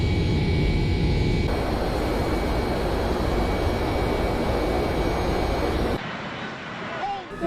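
A commercial jet engine roars steadily and loudly, then the noise cuts away abruptly near the end.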